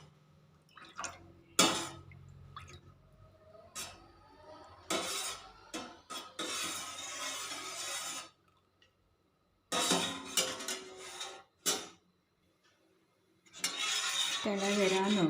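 A spoon stirs milk in a pot as it heats on the stove for curd, giving intermittent scraping and clinking strokes in bursts separated by short quiet pauses, close to the microphone.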